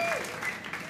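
Concert audience applauding steadily at a fifteenth-anniversary show by a band, a dense wash of claps lasting the whole moment with a faint tonal sweep near the start.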